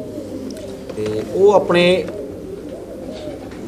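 Pigeons at a Punjabi pigeon-keeping family's loft give a brief burst of cooing near the middle, set against a low murmur of background noise while someone speaks over it.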